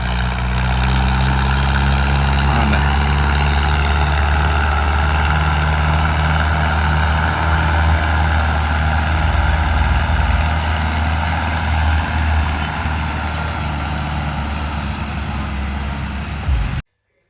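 A Mahindra Novo 605 4x4 tractor runs at a farm during combine harvester work, its engine droning loud and steady with a deep hum for about seventeen seconds before cutting off abruptly at the end.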